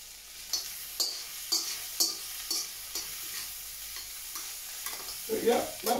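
Food sizzles in a wok during a simple stir fry, with regular scraping strokes of a utensil roughly every half second, then a denser burst of clatter at the end; close, no talk.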